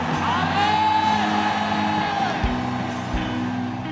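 A church congregation at a night prayer service shouts amen together in a loud, sustained roar of many voices that swells and holds for several seconds, with no single voice standing out.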